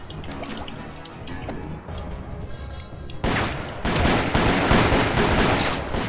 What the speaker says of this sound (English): It's like a machine gun.